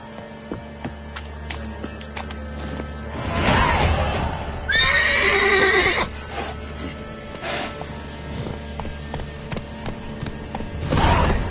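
Roach, the horse in The Witcher 3, gives a loud neigh and a whinny over a game soundscape, with hoof thuds and a couple of shorter snorts spread through the scene.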